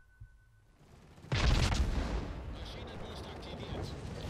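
A naval artillery salvo strikes a ship in the warship battle game World of Warships: a small pop, then a heavy boom that swells into a sustained roaring rumble, with faint crackles on top as it fades slowly.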